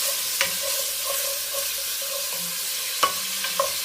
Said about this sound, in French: Donc le chef fait frire son porc, rajoute le poulet